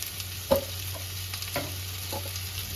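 Spices with turmeric are stirred and fried in a pan for a Bengali fish curry, giving soft scraping stirs and a faint sizzle over a steady low hum, with no talking.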